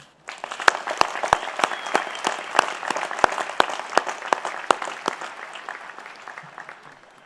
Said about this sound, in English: Please join me in a round of applause congratulating this year's honorary doctorate recipients.